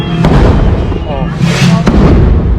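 Loud explosions at a large street parade in Chamula, Mexico, two sharp blasts standing out over a dense, continuous roar of crowd noise and bursts, with voices shouting throughout.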